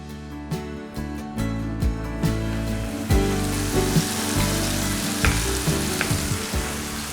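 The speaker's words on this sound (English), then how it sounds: "I'll sear and brown my lamb in it" Lamb shoulder sears in vegetable oil in a preheated cast iron pot, giving a loud, steady sizzle with sharp pops and spits as the pieces are moved around, and no one talking.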